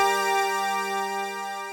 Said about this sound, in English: without any processing it sounds like this